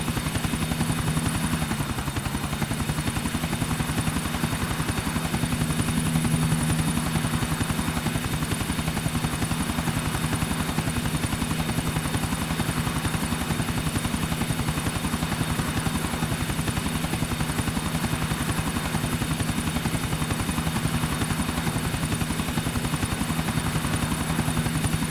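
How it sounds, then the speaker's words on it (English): Helicopter in the video game GTA IV, a continuous rapid rotor chop with a steady engine drone, loud and unbroken throughout with no talk. "Chopper, stick to him, Nico."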